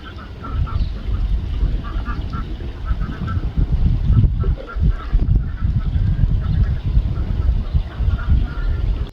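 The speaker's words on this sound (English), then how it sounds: "The ducks are yelling." A dense chorus of ducks quacking loudly and continuously, many birds close by calling over one another without pause.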